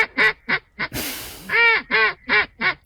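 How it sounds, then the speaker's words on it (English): A duck quacks repeatedly in loud, close, evenly spaced calls, with a short burst of hissy noise breaking the sequence midway before the quacking resumes. "And it quacks like a duck."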